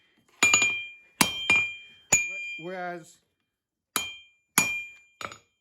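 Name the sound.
hammering hot steel while forging a knife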